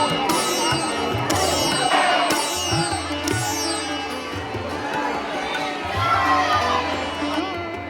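A dense crowd of pilgrims packs Shri Ji temple in Barsana, loud continuous chatter and shouting with children's voices and sharp cries rising above the constant roar.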